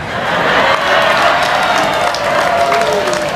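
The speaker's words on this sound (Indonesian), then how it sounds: "Kau tepuk tangan baru kau semua pelakunya." Dense, sustained applause from an audience at a religious lecture, steady and loud throughout with a crowd murmur mixed in.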